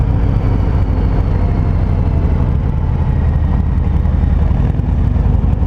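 A 2019 Harley-Davidson Fat Boy rumbles along in third gear, a steady deep engine drone with a low throbbing pulse under wind noise, close and continuous without any rise in revs.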